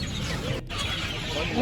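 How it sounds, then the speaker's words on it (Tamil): Chickens cluck at a busy, noisy market in Pallavaram, with a brief louder squawk near the end over steady background chatter. "இங்கே பாருங்கள் கோழி எல்லாமே வெடக்கோழி வெடக்கோழி வெடக்கோழி எல்லாமே அப்புறம் நாட்டுக்கோழி"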